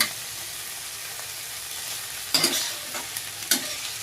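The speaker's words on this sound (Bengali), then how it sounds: "সবজির সাথে একটু মশলাটা দিয়ে নেব দিয়ে যাতে কাঁচা গন্ধটা চলে যায় সেইভাবে ভাজা ভাজা করতে দিয়ে দেব" Vegetables with spices stir-fry in a hot pan, giving a steady soft sizzle broken by a few sharp scrapes and clinks of a spatula stirring.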